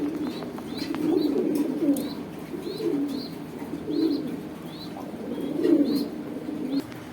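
Racing pigeons coo in low, rolling bursts, several overlapping calls repeating every second or so, close and clear with faint chirps above.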